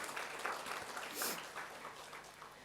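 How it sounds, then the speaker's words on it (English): A modest audience applauds at an Atomy product introduction in Malaysia. The clapping is soft and scattered, with one louder clap near the middle, and it fades slightly over under three seconds. "Another round of applause for Atomy, please."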